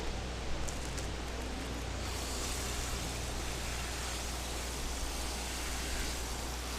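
Water is poured onto a newly transplanted, grafted pawpaw tree, a soft, steady hiss of splashing and soaking with a low hum underneath and no talking.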